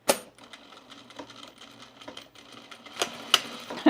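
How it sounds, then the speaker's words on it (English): Domestic sewing machine stitching a fleece pullover, quiet bursts of rapid mechanical clatter with pauses between runs and a few sharper clicks and knocks near the end. "I'm just gonna start sewing and then arrange the bottom in a second."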